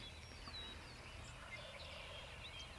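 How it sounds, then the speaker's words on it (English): Wild turkeys gobble faintly from a distant hillside during a spring hunting opener in Pennsylvania, the far calls thin under a steady outdoor background hum with no talking. "there's turkeys gobbling their brains off on that hillside over there"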